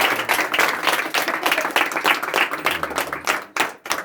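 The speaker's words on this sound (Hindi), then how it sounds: "जोरदार तालियां।" A congregation at a church service gives loud, close applause. The hand claps come in uneven surges and briefly dip before picking up again.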